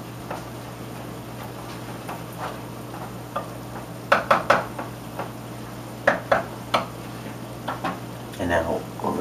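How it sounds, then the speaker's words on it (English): Brain stew ingredients being stirred and spread around in a pot: scattered scraping and clinking strokes, bunched into short bursts in the middle and toward the end, over a low steady hum. "mix this in, make sure you spread it around evenly"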